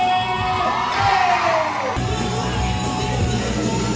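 A crowd at a trampoline event at Camp Woodward cheers and whoops, a busy mix of shouts and yells with a brief rising whistle-like tone, steady and fairly close.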